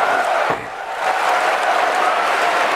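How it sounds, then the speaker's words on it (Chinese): Audience applause at a professional snooker match rises as a steady, dense wash of clapping filling the arena, with a slight dip early before swelling again. "现场掌声雷动啊！"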